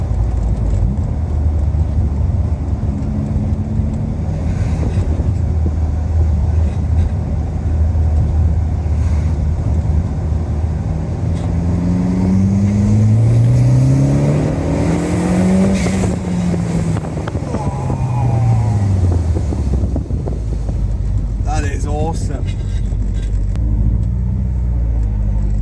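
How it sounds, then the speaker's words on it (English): A turbocharged Peugeot 106 GTI drives along with a continuous loud engine drone, revs rising and falling as it accelerates and shifts, with interior road rumble throughout and no voices. "Turbo noise is awesome."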